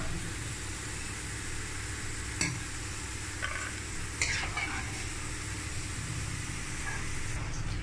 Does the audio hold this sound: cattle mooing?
no